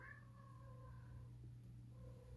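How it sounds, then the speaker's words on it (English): A house cat meows in a long, wavering, agitated cry that trails off, then a shorter call follows, over a steady low electrical hum indoors. "Sorry, my cat's losing her mind."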